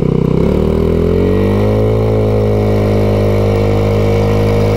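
A 2021 MADDOG Generation V 150cc scooter engine revs up and then holds a steady loud hum while riding on a country road, close and continuous with no talk.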